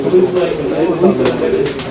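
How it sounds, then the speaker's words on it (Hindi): A Golden Kamgar pigeon coos close by in low, rolling, repeated phrases, steady and fairly loud over soft background murmur. "गोल्डन कमगर कबूतर"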